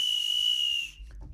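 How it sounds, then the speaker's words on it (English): A Wienermobile whistle gives one steady, shrill, high whistle lasting about a second, loud and close, then cuts off into a low background rumble. "A Wienermobile whistle."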